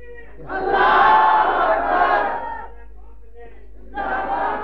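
A large crowd at a religious rally roars slogans in unison, two loud swelling chanted bursts separated by a brief lull, the voices massed and echoing.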